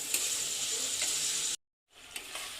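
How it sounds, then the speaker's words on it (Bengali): Onion, garlic, bay leaves and whole spices frying together in a pan make a continuous sizzle that drops out briefly, then returns a little quieter with a couple of stirring clicks. "পেঁয়াজ, তেজপাতা, রসুন আর গোটা গরম মশলা একসঙ্গে আমি ভালো করে আগে ভেজে নেব।"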